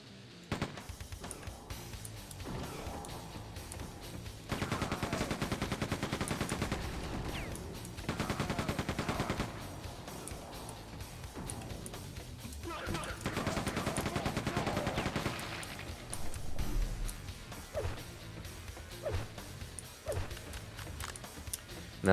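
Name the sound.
machine gun firing in the video game Quake 2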